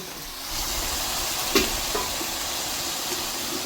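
Large shrimp bhuna sizzles steadily in a pan as the lid is lifted, a constant close frying hiss with a couple of faint clinks.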